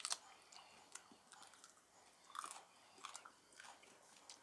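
Crunchy bites into fresh chili pepper pods such as 7 Pot Yellow and Pimenta Puma, a few crisp snaps and soft chewing sounds, close and quiet with no voices.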